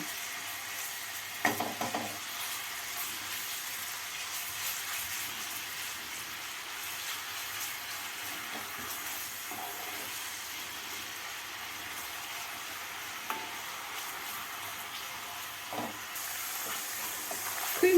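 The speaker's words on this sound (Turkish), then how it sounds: "Ardından 200 gram kadar kıymam vardı. Onu da yağımın içerisine ilave ediyorum. Biraz kavuracağım kıymalarımı." Around 200 grams of ground beef fries in oil in a pan with onions. A soft, steady sizzle is heard from nearby, broken by occasional scrapes from stirring.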